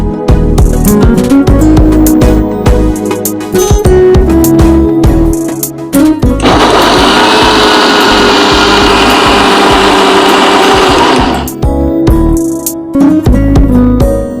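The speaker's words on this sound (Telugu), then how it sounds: "ఇప్పుడు ఇది మిక్సీ కొట్టుకోవాలి." A kitchen mixer grinder blends soaked lentils with a little water into smooth dosa batter, a loud steady whirring grind of about five seconds that stands alone between bursts of kitchen clatter and talk.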